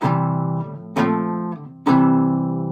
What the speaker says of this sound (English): now the next one that we need to know about is the imperfect cadence